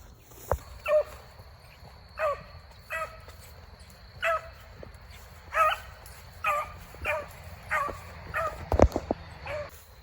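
Beagle hounds bay in short, repeated bursts while chasing a rabbit near woods, about a dozen yelping calls at an uneven rhythm, moderately distant, over a steady outdoor hiss.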